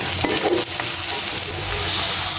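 Papaya pieces sizzle and fry steadily in a small amount of oil in a pan, with a continuous loud crackling hiss and an occasional stirring scrape.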